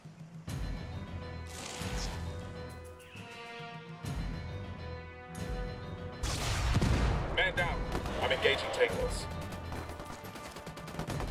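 Gunfire in Ghost Recon Wildlands, scattered loud shots and short bursts with crashing impacts, growing denser toward the middle, with voices heard among the shooting.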